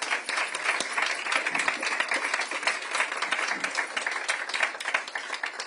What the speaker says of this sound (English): please give them a round of applause for their bravery for being here